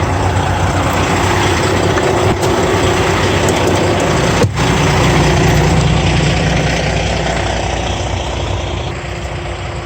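Ford Mustang engine running at a steady idle up close, a continuous rumbling drone with a couple of brief knocks, in cold rainy weather and with no talk.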